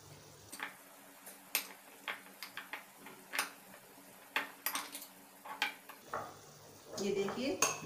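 A spoon scrapes and clinks as tomato puree with salt and finely chopped green chilli is stirred in a pan for a Navratri fasting thali. Irregular, fairly close scraping strokes and light taps, with a soft sizzle beneath and a louder stir near the end.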